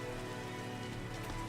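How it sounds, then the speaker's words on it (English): Steady rain pours down in the blocky world of Minecraft at night, a dense continuous hiss of drops spread evenly throughout, with no voices. "It's raining."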